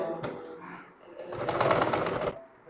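A sewing machine gives a short, fast burst of rhythmic stitching as it sews pyjama fabric with thick elastic, close and fairly loud. It comes after a quieter stretch of handling noise.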